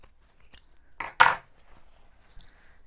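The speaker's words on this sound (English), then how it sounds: "I'm going to cut right into that seam so that I don't disturb any of the beading" Scissors snip into the seam of a satin wedding dress decorated with beading and rhinestones, a few close, crisp cuts with one longer louder slice in the middle, in an otherwise quiet room.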